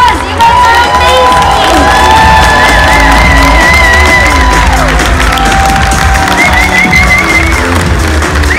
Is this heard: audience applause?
yes